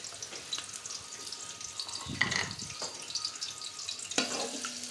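Onions fry in a pot for chana pulao, giving a soft, steady sizzle broken by a few louder stirring clatters, with no voices.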